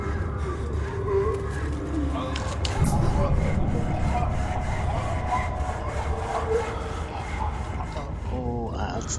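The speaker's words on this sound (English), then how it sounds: "Oh, that's the sound of a saw." A saw rasping back and forth in Amnesia: The Dark Descent, a continuous gritty scraping with a dense, noisy texture and steady loudness, mixed with ambient game sound and a brief voice-like sound near the end.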